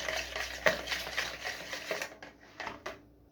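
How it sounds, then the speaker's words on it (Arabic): Milk and egg whisked together for a simple cake, with a quick rhythmic clicking and swishing of a whisk against a bowl, fairly close, slowing into a few separate strokes near the end. "هنضرب اللبن الاول والبيض مع بعض كويس جدا"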